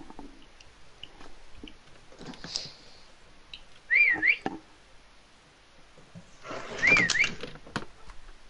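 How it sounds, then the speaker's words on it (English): A person whistles two short rising-and-falling tunes a few seconds apart, close and clear over quiet background noise with faint clicks, during video-game play. "Who's whistling?"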